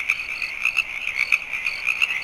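At dusk frogs croak in a steady, pulsing chorus that runs throughout, loud and dense, with a continuous insect-like trill woven through it and no voices.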